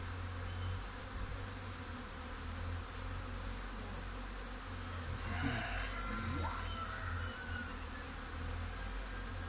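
Honeybees flying busily around improved tiered hive boxes make a steady, dense buzzing swarm drone, faint but continuous, with a few louder individual bees passing close near the middle.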